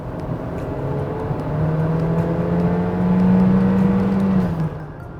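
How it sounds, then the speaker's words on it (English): A 2018 Honda CR-V engine is heard from the cabin, a loud, steady droning hum that rises in pitch as it accelerates, then eases off slightly, with road and rolling noise underneath. "It's not just the engine noise either, which by the way, is really loud."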